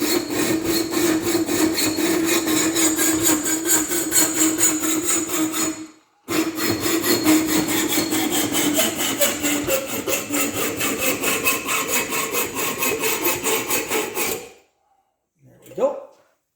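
Metal part for a 1968 Pontiac GTO hideaway headlight conversion cut with a hand saw, steady rapid rasping strokes, close and loud, with a brief pause midway, then stopping before a short faint scrape.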